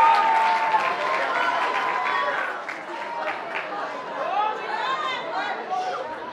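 Audience at an amateur singing competition in Medveđa greets a female contestant with a steady wash of clapping and crowd chatter, moderately loud and continuous, with a voice speaking over it near the end.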